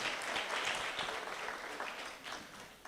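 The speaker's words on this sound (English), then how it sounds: "let's give him a round of applause" An audience at a live-streamed restaurant chat event applauds, a faint, steady wash of many hands clapping that tapers off slightly toward the end.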